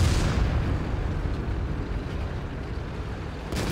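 A tank cannon shot from a 59-Patton in World of Tanks punching through enemy armor: a heavy, booming blast that opens loud and then rolls into a long low rumble, with a faint late crack near the end.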